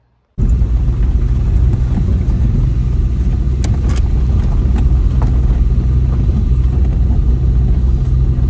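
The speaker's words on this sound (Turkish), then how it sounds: "Aha, aha araba göründü. Aha göründü." A car on a Black Sea mountain road, heard as a steady, loud low engine rumble that starts abruptly and holds close and continuous for the rest of the stretch, with no talk.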